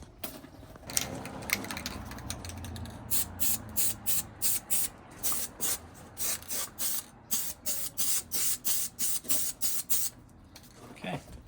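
Short rhythmic bursts of spray paint hiss as a light coat goes onto car parts for a Pontiac build, a dozen or so quick passes in a row, close and fairly faint, with brief rustling before.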